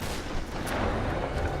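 Gunfire during a boss fight in Tomb Raider Definitive Edition, dense booming shots blurred into a loud, continuous wash of game noise with no clear gaps and no talking.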